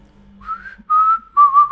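A person whistles to imitate Sonic the Hedgehog's happy whistle: three short, clear, close phrases, the first rising and the next two held level with a slight wobble.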